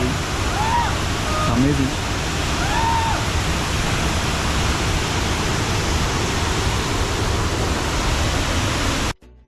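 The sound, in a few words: waterfall flowing at Wayanad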